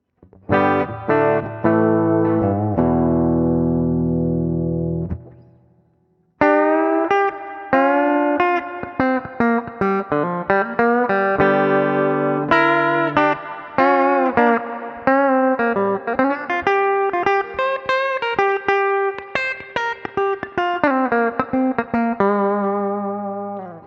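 A clean electric guitar on its bridge pickup through a clean amp plays chords and single notes, a strummed opening that rings out and stops, then a busier riff with muted picking and sustained chords.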